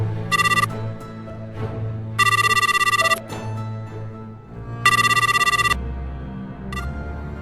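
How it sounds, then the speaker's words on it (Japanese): A telephone rings and goes unanswered, three long trilling ring bursts with short partial rings between them, clear over a soft, low background. "さすがに遅いんじゃないかと思って電話をしてみたが繋がらない。"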